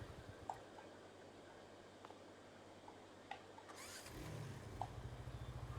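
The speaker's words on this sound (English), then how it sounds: "That noise you can hear, if you can hear it starting, is actually the engine on the tiny little conveyor thing." A tiny conveyor engine in Farming Simulator 22 sputters faintly, then catches around the middle and settles into a low, steady, rapid chugging idle, quiet and close, with no talk over it.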